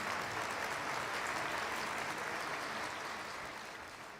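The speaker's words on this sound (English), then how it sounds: "Would you please give him a big round of applause one more time?" Sustained applause from a large audience at a conference opening plenary after a keynote address, a thick, continuous roar of clapping that holds steady and tapers slightly near the end.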